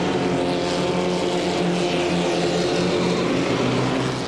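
Race cars in an SRF pack at the 1997 St Pete Grand Prix roar steadily past at close range, a loud, continuous engine drone with no talk over it.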